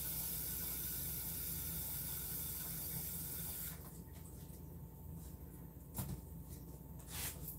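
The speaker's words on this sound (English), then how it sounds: "Mom's already putting water on the potatoes." Tap water runs steadily onto potatoes in a kitchen pot, a broad close hiss that fills the first half and then eases into softer, thinner trickling with a couple of small knocks.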